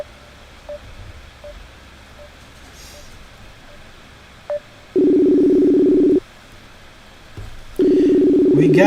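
Telephone call being placed: a few short dial beeps, then two long ringback tones separated by a pause, fairly clear against a quiet background.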